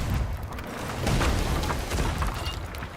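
A ship's cannon booms in Sea of Thieves, a muffled heavy blast swelling in the middle of a low rumbling background, fairly quiet and without speech.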